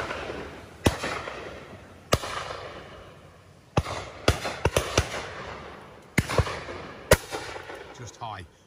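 Shotguns fire at driven game birds on a shoot at Coombe Sydenham: about eight sharp, loud reports at irregular intervals, each followed by a short outdoor decay, with faint talk in the background.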